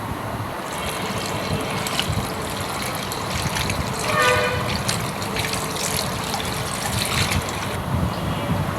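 Chopped water spinach (kolmi shak) being washed in water, a continuous close splashing and trickling with small surges, no talk.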